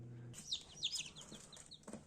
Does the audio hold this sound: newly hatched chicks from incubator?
yes